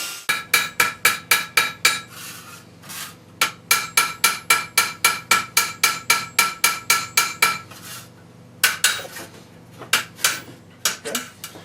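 A tinsmith's hammer strikes copper rivets to fix a handle onto a hand-made copper lid: sharp, ringing metallic blows in fast even bursts of many strikes, close and loud, separated by short pauses.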